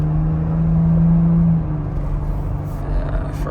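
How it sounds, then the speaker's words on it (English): Used car engine running while driving, a low steady hum that holds a tone then drops in pitch as the gear changes partway through, continuing as a lower rumble afterward with no talk. "you want to listen to make sure that it's changing gears right"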